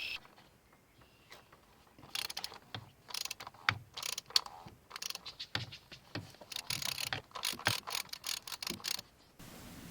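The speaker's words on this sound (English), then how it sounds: "now to take it off, we're going to turn it counterclockwise, which is this way" Ratcheting socket wrench on a 4-inch extension turning an oil filter cap counterclockwise on a 1.4L turbo Ecotec engine, heard as irregular bursts of sharp mechanical clicks and ratchet rattles, close and fairly loud, with no talking.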